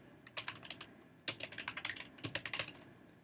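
Fingers type on a computer keyboard in quick bursts of crisp clicking keystrokes, close and fairly quiet, with short pauses between flurries.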